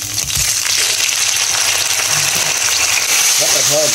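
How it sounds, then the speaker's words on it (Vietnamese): Beef hits a hot pan and is stir-fried for Vietnamese shaking beef, giving a loud, continuous sizzle with clattering stirring noises throughout and a brief voice near the end. "bắt đầu mình sẽ xào thịt bò nha mấy anh chị. Bỏ thịt bò vào."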